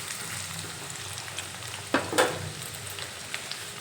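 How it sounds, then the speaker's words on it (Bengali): Potatoes frying with onion in oil, a continuous close sizzle with a couple of sharp stirring knocks near the middle, no voices. "এখানে আমি 2-3 মিনিটের মতো এই আলু ভেজে নেব।"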